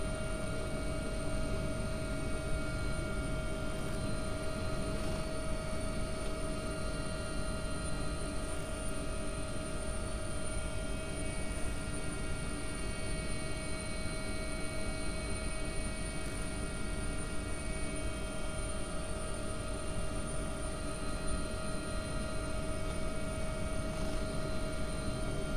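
AW-139 helicopter in the X-Plane 11 flight simulator, a Scottish Coastguard rescue flight heading southwest. Steady, loud rotor and turbine drone with a constant whine runs unbroken throughout, with no voices.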